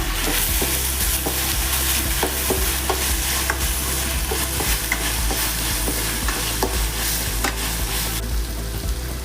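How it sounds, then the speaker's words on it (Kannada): Tomatoes fry in a pan for an Indian okra stir-fry, a steady loud sizzle running throughout with repeated sharp clicks and scrapes of a spoon stirring, no voices. "ಟೊಮೊಟೊ ಸ್ವಲ್ಪ ಮೆತ್ತಗಾಗೋ ತನಕ ಫ್ರೈ ಮಾಡ್ಕೋಬೇಕು."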